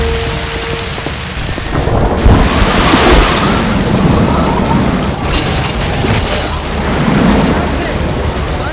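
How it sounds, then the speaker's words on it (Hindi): Fast-flowing Sirsa river water rushes in a dramatized battle scene, a loud continuous wash of roaring water with heavy booming rumbles rising and falling throughout. "पानी का बहाव बहुत तेज है"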